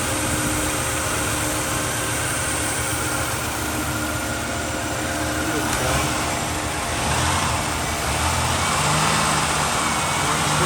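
A 1995 Buick Century's engine runs steadily with a broad, even hum and road-like rumble, a constant drone of moderate loudness with no clear revving.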